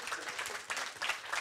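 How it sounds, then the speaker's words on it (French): A small gathering applauds as a poet is introduced, a short, faint patter of clapping from a modest crowd. "vous pouvez applaudir"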